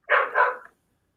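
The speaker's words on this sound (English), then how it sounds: "Dude, that's Russ's dog" A single dog bark, loud and close, a short doubled woof lasting well under a second and then silence.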